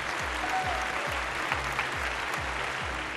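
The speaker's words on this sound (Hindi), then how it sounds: "जोरदार तालियों के साथ स्वागत कीजिए अर्चिता शर्मा का" Loud, dense audience applause fills a Hindi TV reality talent show stage as a contestant is welcomed, sustained and even throughout, with a repeating low musical thump underneath.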